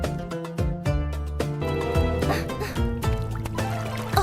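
Water trickles and drips in a secret passage, with bubbly, pouring liquid sounds over a musical background in a short, steady stretch.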